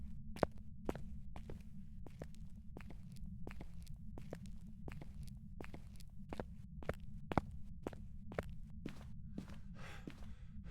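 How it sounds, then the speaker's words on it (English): Ghost footsteps in the Phasmophobia horror game, a steady run of sharp, evenly spaced thuds across about ten seconds over a constant low rumble, with no voices. "if a ghost stepped through salt piles, you wouldn't hear its footsteps. Now you can."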